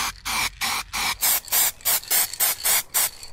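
A can of glitter effect spray paint hisses in about a dozen short, sharp bursts, evenly spaced and loud up close, with brief silences between sprays.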